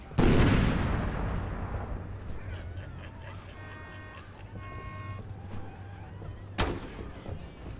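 A loud grenade blast in the video game Crackdown opens, its boom decaying slowly into rumbling game noise, and a second, sharper explosion follows later, with faint tonal game sounds in between.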